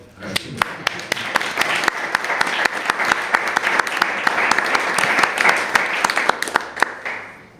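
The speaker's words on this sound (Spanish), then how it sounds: "Casi hasta se merece un aplauso" An audience at a bonsai exhibition applauds a Ginkgo biloba bonsai tree, a steady round of many hands clapping at moderate distance, sustained for several seconds before tapering off.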